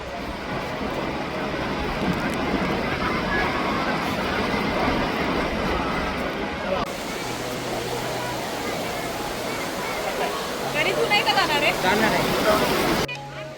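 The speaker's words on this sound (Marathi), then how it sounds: "हा आहे मुख्य धबधबा ती उंचावरून पाणी पडते पहा" Soundada waterfall pouring from a height, a loud, steady broadband roar filling the whole stretch, with crowd voices and chatter mixed into the rushing water.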